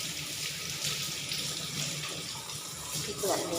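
Tap water runs steadily into a sink as vegetables and chillies are rinsed for a Thai chicken soup and chilli dip, a close, continuous splashing rush with a brief clatter near the end.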